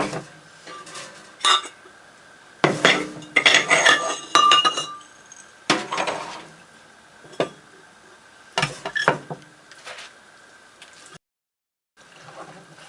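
Shredded apple, fennel and onion sauerkraut is pressed into a crock, with bursts of clinking and knocking against ceramic and glass, irregular and close, separated by short quiet gaps.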